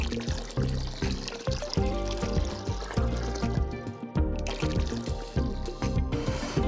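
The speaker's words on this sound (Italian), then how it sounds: "Mettiamo 2 litri di acqua per 500 grammi di farina." Two litres of water pour into a pot for making polenta, with a continuous splashing flow and trickle heard close by.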